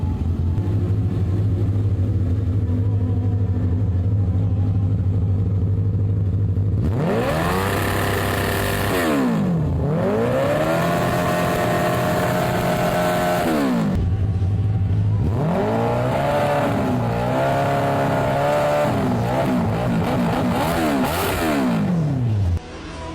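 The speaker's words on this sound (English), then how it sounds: "After hearing that engine roar, it's clear that this is probably one of the fastest go-karts ever made" A lightweight carbon-fiber go-kart fitted with a motorcycle engine idles, then revs hard in several long, screaming bursts that climb and drop in pitch, loud and close throughout with no talk.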